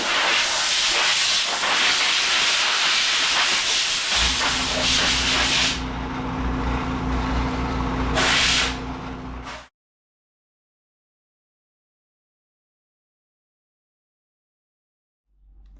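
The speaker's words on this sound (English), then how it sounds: "And another great reason to have an air compressor." A shop air compressor's blow nozzle, used while working on a 1985 Kawasaki 1100 LTD motorcycle, gives a loud, steady broadband hiss of blowing air for about ten seconds, with a deeper rumble joining midway, then cuts off abruptly.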